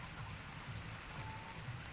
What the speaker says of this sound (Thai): ฝนตกลงเม็ดตอนนี้นะ